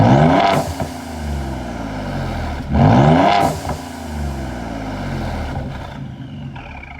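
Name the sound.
car exhaust with aFe catless downpipes, heard from outside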